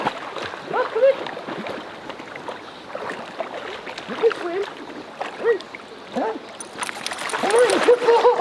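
Rottweiler puppy splashing as it swims in cold water, intermittent watery splashes and paddling noises with people talking over them outdoors.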